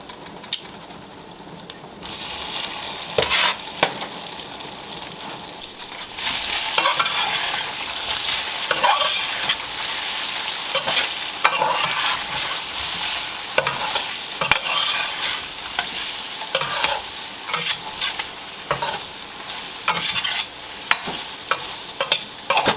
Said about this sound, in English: I do wanna fry these up just a little bit